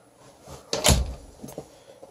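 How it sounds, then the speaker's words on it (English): A door controlled by a Raspberry Pi NFC/RFID access system unlocks with one solid mechanical clunk, followed by a couple of softer clicks, close and without voices. "And it'll unlock the door."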